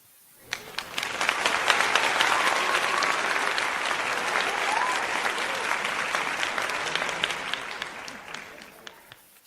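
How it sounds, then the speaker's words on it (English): Applause from a large crowd, rising quickly to a dense, sustained roar of clapping that holds for several seconds and then gradually tapers off, with no talking over it. "Let me get you some applause, Fly Boys"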